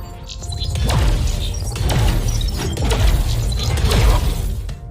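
KAY/O's knife ability thrown in Valorant: a metallic, mechanical whir and clatter with sharp crackling accents repeating across the span, close and fairly loud.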